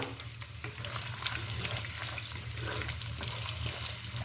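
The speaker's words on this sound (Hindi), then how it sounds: "अब इसके अंदर ये प्याज हम डाल देंगे स्लाइस किए हुए।" Sliced onions fry in hot oil in a kadai for a chicken and cabbage salan, giving a steady, moderate crackling sizzle that holds evenly throughout with no talking.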